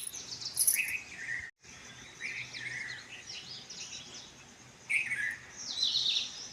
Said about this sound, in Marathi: चिमण्यांचं किती काल आहे चाललं आहे बघा